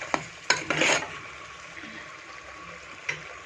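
Taro curry with chili powder cooking in a pan, giving a soft sizzle with a few scraping stirs and clinks early on, then settling into a quiet simmer.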